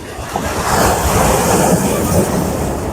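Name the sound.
big sea wave coming in at Digha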